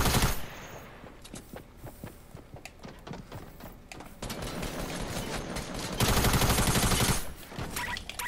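Fortnite Battle Royale gunfire rattles in rapid bursts, dense automatic shooting that grows louder toward the end before a brief lull. Close and busy, with no clear speech.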